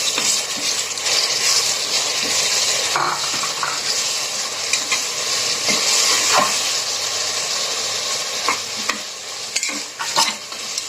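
Onion, tomato and green chili sizzle in a hot pan for mutton curry, a steady close hiss broken by scraping stirs and spoon knocks throughout.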